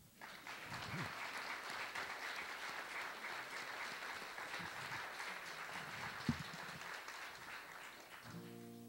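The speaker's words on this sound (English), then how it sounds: "I think that's applause worthy." Steady applause from a room of listeners at a livestreamed class session, sustained and fairly even for most of the stretch before tapering off near the end.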